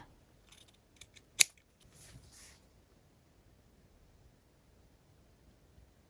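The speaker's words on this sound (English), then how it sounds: "Just cut it here." A single sharp snip of scissors cuts fabric for a ruffle on a scrap-fabric bookmark, close and clear, followed by faint rustling in a quiet room.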